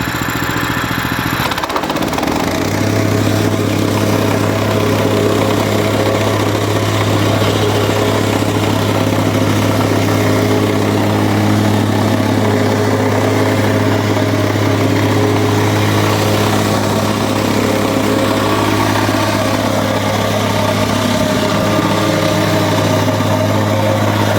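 A Mast petrol plate compactor engine starts with a brief rattle, then settles into a loud, steady idle with a constant low hum that stays close and unbroken throughout, with no talking.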